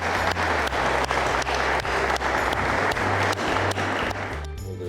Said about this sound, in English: Gentlemen, accept the applause and appreciation of Rotary.